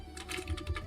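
Rapid keystrokes clatter on a computer keyboard, several quick taps close together and nearby, with no voices.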